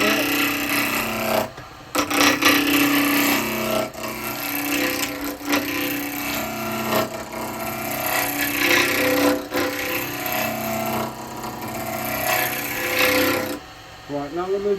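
Lathe tool taking light back cuts on a yew lidded pot, a steady loud scraping and rubbing of steel on spinning wood with brief pauses between passes, no talk.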